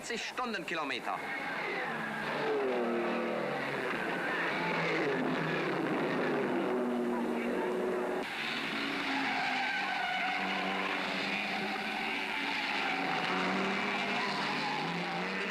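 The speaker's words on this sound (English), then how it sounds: "The Ferraris have caught up and put pressure on Moss's Jaguar" 1950s race cars including Cunningham, Jaguar and Ferrari roaring past at speed, engines whining and rising in pitch with tyre squeal under continuous narration.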